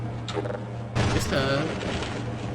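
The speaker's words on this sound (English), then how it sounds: "this pistol is pretty powerful still" Pistol gunfire in Half-Life: Blue Shift, a sharp close shot ringing out about a second in, with scattered mechanical clicks and game ambience around it and a voice talking faintly underneath.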